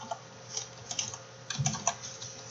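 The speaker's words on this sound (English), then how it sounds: "If I type say Sachin" Close, light typing on a computer keyboard while entering a name, a brief run of irregular clicky keystrokes with small pauses and no voice over it.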